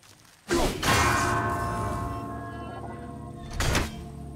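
A deep ringing bell struck in a video game rings out loud, then a second strike follows about three seconds later.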